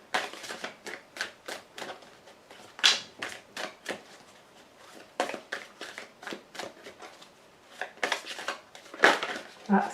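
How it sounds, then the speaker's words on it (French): Tarot cards are drawn and flicked from a deck in a run of sharp, papery snaps and shuffling slaps, irregular and close, with no talk over them. "5 cartes vont être tirées."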